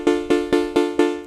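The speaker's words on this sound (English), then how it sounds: "a plucky, pointed sort of sound, not flowing, just sudden pluck, pluck, pluck, banjo-y" Moog Voyager synth set to a plucky, banjo-like patch with no sustain, five sharp evenly spaced plucked notes, each with a quick attack and short decay, close and alone.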